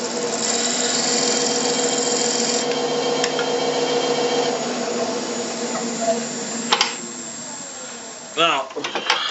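Wooden toothpick holder spinning on a lathe as it is trimmed, a steady whirring hum with scraping tool contact, then a few brief knocks and a short burst of louder cutting near the end.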